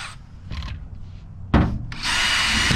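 A new DeWalt reciprocating saw (Sawzall) is cutting on setting two, with short bursts of buzzing followed by a loud sustained grinding cut, close and harsh.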